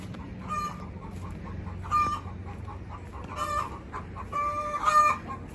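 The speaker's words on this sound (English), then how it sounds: "Those chickens were making so much noise." Several chickens cluck and squawk close by in short, repeated bursts, some calls louder and more drawn out, at the Philly Goat Project in Philadelphia.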